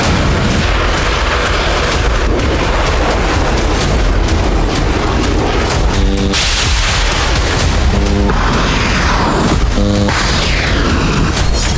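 Missile launches and explosions in a Houthi attack on Israel, loud continuous roaring rumble with repeated booming bursts and sharp pulses throughout, dense and close with no voices.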